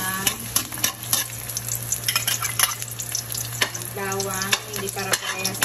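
Garlic sautés in a pan for a Filipino lechon paksiw, a busy close sizzle broken by frequent spatula scrapes and clinks against the pan.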